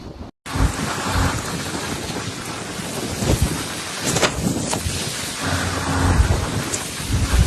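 A typhoon thunderstorm lashes the eastern Philippines, dense heavy rain pouring continuously with wind, a few sharp cracks and rumbling thunder rolling through, loud and unbroken.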